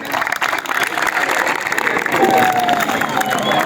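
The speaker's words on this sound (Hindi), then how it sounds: "सर आगे आगे क्लैप करें, क्लैप।" An audience at a school event claps and cheers, a dense wash of applause that grows louder toward the end, with voices talking over the crowd.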